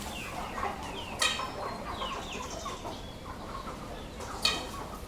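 Broiler chickens cluck steadily in a busy chorus, with a couple of louder squawks standing out against the constant farmyard chatter.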